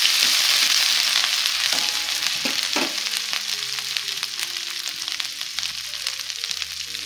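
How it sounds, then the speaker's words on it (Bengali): Ginger and green chili frying in oil in a pan, giving a steady, close sizzle with a few scraping stirs and light clinks scattered throughout. "আদা বেশি ভাজলে তেতো হয়ে যায়, সেই কারণে অল্প আদা একটুখানি ভেজে সবজিগুলো দিয়ে দেবো"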